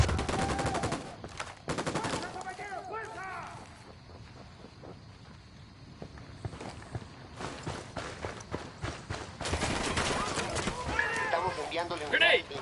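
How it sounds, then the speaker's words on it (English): Gunfire in the video game Ghost Recon Wildlands: rapid bursts of automatic weapon shots crackle in clusters, loud and close, with a quieter lull mid-clip before heavy firing resumes, mixed with footsteps and voices talking. "Opening fire."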